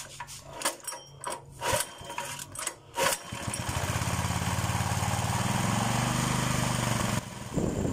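Old gasoline engine, just back on after a carburetor repair, runs steady and fairly loud with a slight misfiring unevenness, following a few knocks and rubbing sounds of handling; the engine note dips briefly near the end.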